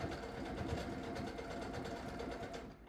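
Sewing machine stitching, a steady fast rhythmic mechanical whir close by, running continuously before stopping at the end.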